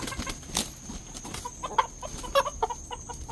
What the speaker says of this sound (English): It's a fight between a hen and a rooster.